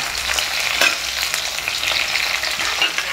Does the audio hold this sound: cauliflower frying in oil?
yes